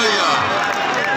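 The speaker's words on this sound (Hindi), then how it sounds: "जोरदार तालियां यार" A crowd at a lively gathering cheers and claps in a dense, loud, continuous wash of noise, with voices mixed into the din throughout.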